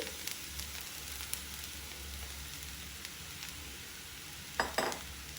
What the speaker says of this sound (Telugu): బెండకాయ కూడా వేగిపోయింది మనకి. ఇప్పుడు దీనిలో ఈ మసాలా పొడి వేసుకోవాలి.